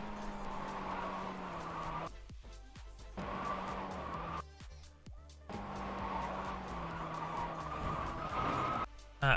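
Tyres on cold rubber in a racing simulator squeal and skid in long, loud stretches over a droning car engine, broken by a few short gaps and sharp clicks.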